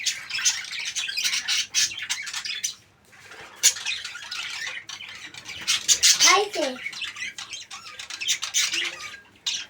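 A parrot with an injured leg at a small private zoo gives harsh squawks, loudest around the middle. Hissy rustling and a person speaking continue around it.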